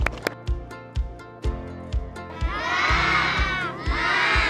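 Schoolchildren clap and cheer at a school holiday celebration, with a loud, rhythmic thumping beat underneath and rising shrill shouts swelling in the second half, close and energetic.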